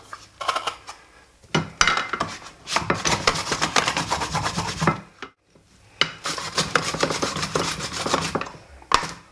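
Potatoes being thinly sliced for Pan Haggerty, a rapid series of rasping knife or slicer strokes in bursts separated by a brief pause, close and crisp with no talking.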